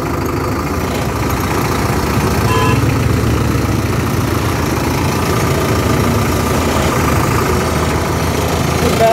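An Agri King T70 tractor engine idles steadily nearby, a constant low rumbling chug with no talking.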